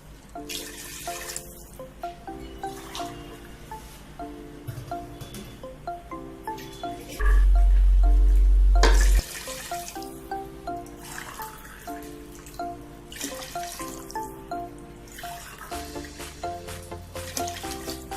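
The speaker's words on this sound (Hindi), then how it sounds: "अब इसमें पानी ऐड करें।" Water is poured into a pot of rice while cooking Hyderabadi bagara khana, a steady trickling and splashing partly masked by loud background music.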